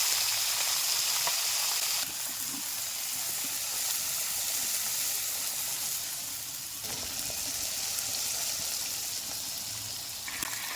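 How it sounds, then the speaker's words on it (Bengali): Small fish frying in mustard oil with whole cumin and green chilies, giving a steady, close hiss and sizzle with a slight change in level partway through, no voices over it. "দেখুন মাছের সাথে কি সুন্দর লঙ্কাটাও ভাজা হয়ে গেছে।"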